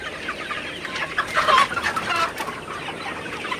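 A flock of Sonali chickens on a poultry farm clucking and murmuring together, a dense, busy chorus close by with a few louder squawks rising above it.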